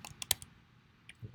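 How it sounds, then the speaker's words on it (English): Typing on a computer keyboard, a few faint, close clicks of keystrokes in a short burst, followed by a couple more scattered taps in a quiet room. "I'm gonna type it."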